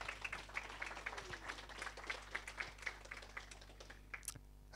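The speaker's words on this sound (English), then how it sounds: "I think that probably deserves a round of applause for SiteGround" Light, patchy clapping from a room of attendees at a WordPress London meetup, quiet and somewhat distant over a low steady hum, with sharp individual claps standing out.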